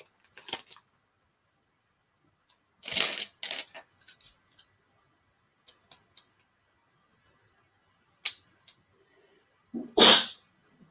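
A single sharp sneeze bursts out near the end in a quiet room, after scattered small clicks and rustles from building a LEGO set.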